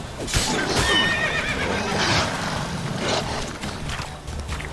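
A horse in the video game Witcher 3: Wild Hunt neighs sharply near the start, then snorts and stamps amid steady background rumble and clatter.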